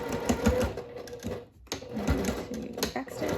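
Sewing machine stitching a seam at a half-inch allowance on a Fourth of July outfit top, running in a steady rapid whir with a short pause midway before restarting, close and continuous.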